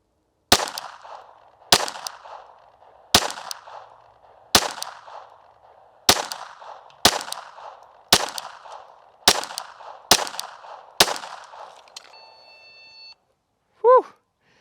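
Eleven pistol shots ring out on an indoor range during a league course of fire, sharp cracks at a steady, slightly quickening pace, each followed by a short echo, ending with a shot timer's beep.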